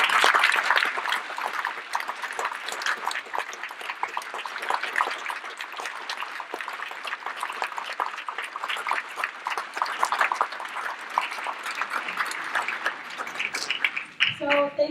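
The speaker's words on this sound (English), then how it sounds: "take a moment to give a round of applause to the brave one, to our Jackie." Audience at a community gala applauds in a sustained burst of dense clapping that lasts over ten seconds, fairly even in loudness before tapering at the end, with some voices mixed in.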